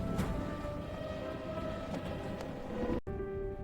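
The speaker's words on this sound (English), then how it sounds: "My Shinkansen to Kyoto? This train is so beautiful and so white." Shinkansen bullet train on its way to Kyoto, a steady rumbling run with broadband rolling noise and faint tonal hum, briefly cut off near the end before resuming.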